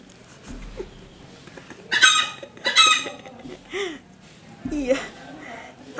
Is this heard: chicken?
yes